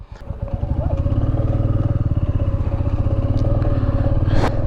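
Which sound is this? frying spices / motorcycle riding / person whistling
motorcycle riding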